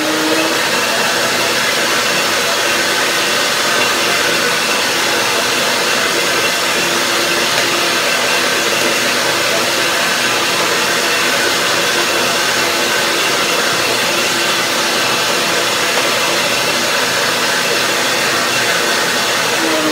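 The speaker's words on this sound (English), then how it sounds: "So I have to blend it up one more time." A blender runs continuously on a ginger sesame orange dressing, a loud, steady whirring roar with no pauses throughout.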